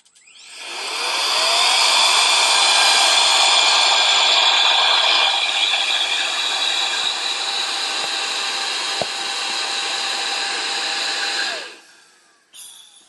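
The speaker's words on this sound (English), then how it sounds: "And then this will fit on the duster." An electric air duster with a nozzle attached spins up to a loud, steady high-pitched whir. It holds for about ten seconds, then winds down and cuts off, followed by a short clatter.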